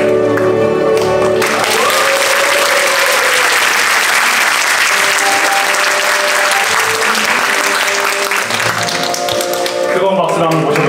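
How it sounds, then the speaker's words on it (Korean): Audience applause at a university seminar celebration magic show, loud and sustained for the full stretch with dense overlapping clapping and music tones underneath. "뜨거운 박수 한번 모셔보도록 하겠습니다"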